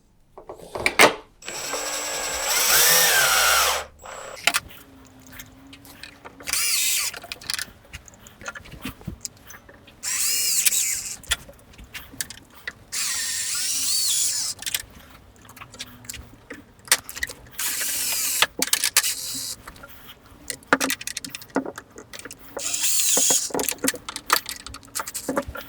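Screws are driven into the hinges of an L-frame plantation shutter in short repeated bursts of a power driver, separated by clicks, handling noises and brief quiet gaps.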